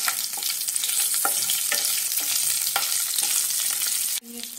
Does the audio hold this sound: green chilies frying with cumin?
yes